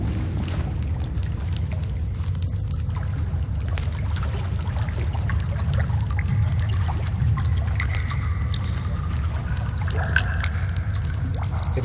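Water trickles and pours inside a cave in the video game The Forest, a steady close stream of splashing that runs without a break, with no voices over it.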